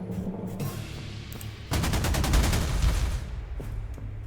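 An anti-tank gun attack plays out in Panzer Corps 2 during a WWII Barbarossa battle: after a quieter stretch, a dense rapid volley of loud, close blasts rattles for over a second, then a few scattered shots trail off.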